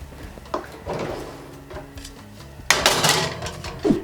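A tray going into a kitchen oven set to 180 degrees: a few light metallic clunks and scrapes, then a louder rattling clatter as it slides in and the door shuts.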